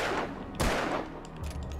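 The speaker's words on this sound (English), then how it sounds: "there's nothing more comforting than the sound of gunshots near you" Nearby gunshots in the video game Alan Wake: a loud burst of cracking fire with a booming blast in the middle, over a dense, rumbling background.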